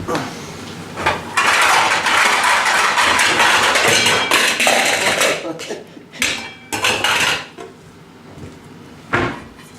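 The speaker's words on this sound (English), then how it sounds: "switch the cooker off and put a lid on it" A lid goes onto a cooker pot of upma amid loud metallic clatter and scraping of pots and pans, several sharp clanks followed by quieter intermittent knocks.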